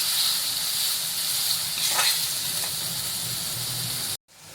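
Chopped onion frying in hot oil for a broccoli sabzi gives a steady, close hiss that runs unbroken for about four seconds, then cuts off abruptly.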